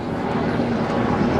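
A Coast Guard helicopter and a prop plane pass overhead as a steady, broad engine drone, loud and continuous for the short stretch with no distinct beats.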